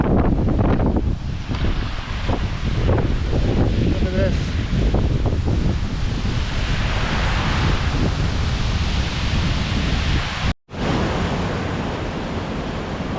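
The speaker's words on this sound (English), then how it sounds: "Oh wow, there's a whole waterfall." A mountain waterfall and stream in North Wales roars with broadband rushing water, mixed with wind buffeting the microphone in extreme conditions; a person speaks briefly over it, and the sound cuts out for a moment near the end.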